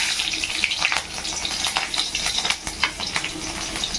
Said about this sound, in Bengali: এবার তেলের মধ্যে আমি রাঁধুনি ফোড়ন দেবো এই যে এই যে রাঁধুনি রাঁধুনি ফোড়ন দেবো আর এই যে লঙ্কা দিলাম দুটো লাল লঙ্কা